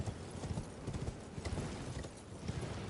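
Horse hooves clip-clop steadily in the video game Elden Ring, an even rhythmic trot of close, moderately loud hoofbeats that runs throughout with no talk.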